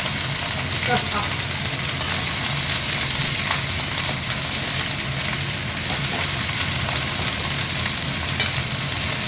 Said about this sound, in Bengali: একটুখানি হয়তো জল আছে, তার জন্য যে প্যাচ প্যাচ করে আওয়াজ হচ্ছে